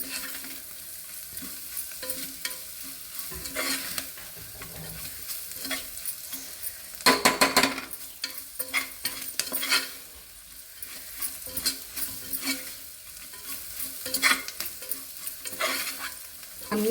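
Mango pieces and dal ingredients sizzle and fry in a pan while a spoon stirs and scrapes repeatedly, close up and without any voices, with a louder burst of stirring midway.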